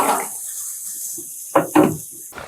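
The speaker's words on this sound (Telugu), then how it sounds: "కొంచెం లైట్గా వాటర్ ఎక్కిస్తున్నా." Water is poured into a pan of cooking mushroom curry, with a splashing gush at the start and two brief pours near the end, close by over a steady background hiss.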